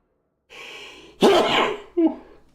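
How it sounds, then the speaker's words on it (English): Big sneezes burst out close and loud: a drawn-in breath leads into one forceful sneeze, followed by a shorter second one. "Big sneezes."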